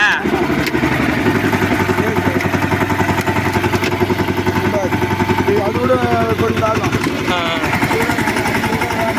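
A small power weeder engine runs steadily in second gear, a loud continuous close putter with a throbbing low rhythm, while people talk over it.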